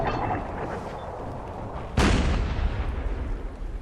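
Artillery shells landing in Empire: Total War during an American Civil War battle: continuous rumbling barrage with a sharp, loud boom striking near the middle, then rolling echoes and distant thuds.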